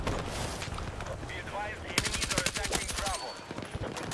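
Rapid automatic gunfire from the video game Battlefield 6, loud bursts of sharp cracks that run into a dense rattling volley midway, with someone talking over the shooting.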